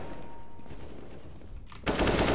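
Gunfire in a video game shooter begins as a quieter rattle, then a loud, close burst of rapid automatic shots erupts near the end.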